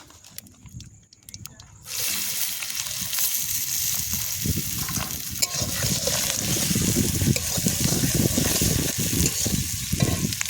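Onions hit a hot pan: a quiet stretch gives way to a sudden loud, steady sizzle that keeps going with stirring scrapes, while a voice talks faintly underneath.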